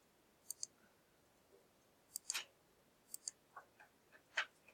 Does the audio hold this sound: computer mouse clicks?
yes